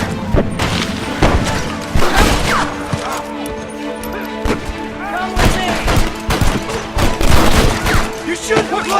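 Rapid gunfire in a Red Dead Redemption shootout, loud repeated shots and bursts with thuds and crashes close by, continuing across the whole stretch.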